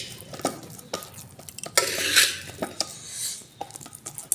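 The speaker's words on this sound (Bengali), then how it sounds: "রাঙা আলু ছাড়িয়ে চটকে নিচ্ছি" Boiled, peeled sweet potato is mashed by hand or utensil in a bowl, giving soft squelching and scraping strokes in an irregular rhythm, with a longer smeared rasp midway, close and fairly quiet with no talking.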